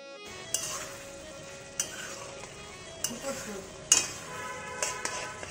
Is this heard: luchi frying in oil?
yes